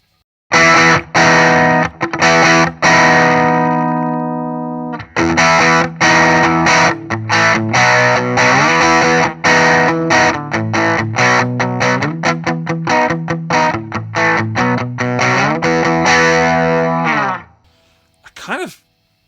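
Heavily distorted electric guitar through a TC Electronic Magus Pro RAT-style pedal in turbo clipping mode, loud crunchy chords and riffs played with short gaps, ending with a brief pick scrape and silence.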